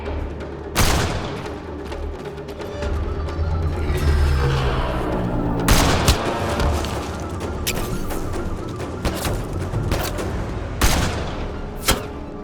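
Gunfire from a sniper in the Mass Effect video game: several sharp, loud cracks and booms spaced irregularly across a steady background of combat noise and rumbling, heard close.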